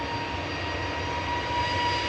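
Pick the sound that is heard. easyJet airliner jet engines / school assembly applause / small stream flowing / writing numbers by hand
easyJet airliner jet engines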